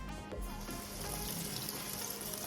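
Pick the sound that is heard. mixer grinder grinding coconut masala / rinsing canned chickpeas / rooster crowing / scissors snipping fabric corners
rinsing canned chickpeas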